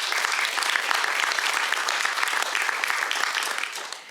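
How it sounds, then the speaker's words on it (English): Sustained audience applause at a citizens academy graduation, honoring law enforcement agencies, a dense steady wash of many hands clapping at even loudness for about four seconds, fading slightly at the end. "let's take a moment and give all of those, all of our law enforcement agencies a round of applause"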